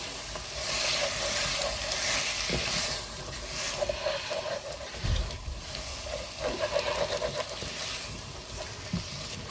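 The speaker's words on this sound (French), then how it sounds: "Et vous grattez bien les sucres." A wooden spoon scrapes caramelized fond from the bottom of a pan after water is poured in, with steady sizzling and bubbling, and stirring and scraping strokes rising above the hiss.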